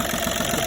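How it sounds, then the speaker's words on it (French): A 2006 VW Polo 1.4 TDI three-cylinder diesel idles steadily up close after engine mount work, with a continuous low rumble and slight knock, no voices. "ici le moteur il tourne, ça a l'air d'aller"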